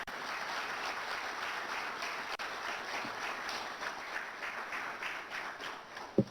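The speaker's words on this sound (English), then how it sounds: "So please, a big round of applause for all foreign investors." Audience applause for foreign investors at a keynote event on foreign direct investment, steady dense clapping from a crowd filling the whole stretch, with a sharp louder clap near the end.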